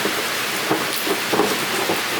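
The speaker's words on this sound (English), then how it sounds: "it can't handle the amount of rain that has dropped in such a short amount of time this morning" Heavy rain causing flash flooding pours down in a dense, steady hiss, with faint scattered patters and no voices.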